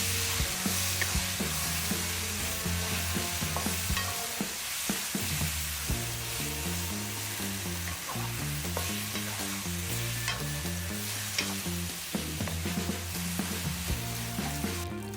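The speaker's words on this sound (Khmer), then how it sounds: "ដាក់សាច់គោដែលបានលាយគ្រឿងរួចឆាចូលជាមួយគ្នាឲ្យរាងទន់បន្តិច" Marinated beef tossed with fried garlic in a hot wok sizzles steadily, with scraping stirs throughout and a musical backing underneath.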